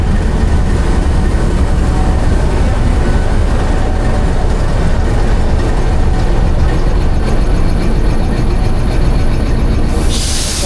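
Indian Railways locomotive 4552, lead power for the 104 Down train, gives off a steady loud low-pitched engine rumble and rail noise throughout, with a brighter hiss rising near the end.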